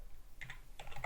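Fingers type on a computer keyboard in two quick clusters of crisp, close clicks with a short pause between them, and no voice.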